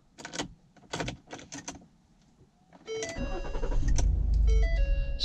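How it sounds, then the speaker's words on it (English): A 2015 Ford Police Interceptor Utility Explorer starts up after a few quiet clicks and mechanical noises from inside the cabin, with the engine cranking and catching into a steady idle, heard up close from the driver's seat. "Let's go ahead and start it up."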